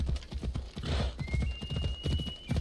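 Horse hooves clip-clop in a steady galloping rhythm in Assassin's Creed Odyssey, loud and close, with a brief whinny partway through and game ambience underneath.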